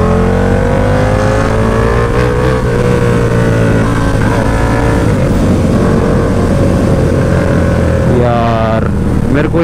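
A KTM Duke motorcycle engine revving loud and close on the road, holding a steady roar with rising pitch sweeps and a sharp rev climb near the end.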